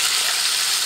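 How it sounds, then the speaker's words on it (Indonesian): Chicken pieces frying in hot oil in a pan, a dense, continuous sizzle at steady loudness with no pauses. "Jadi 1 kilo ayam itu kita goreng dulu ya sebelum kita kasih bumbunya."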